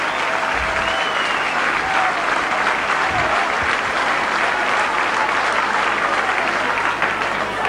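A rugby league stadium crowd at a St Helens versus Oldham match applauds a substituted player, sustained dense clapping at even loudness throughout, with faint commentary beneath.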